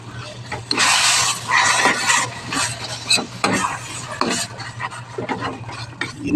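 Grilled eggplant sautés in a pan with fish sauce and black pepper, giving loud sizzling and repeated scraping stirs of a utensil against the pan, close up and with no speech.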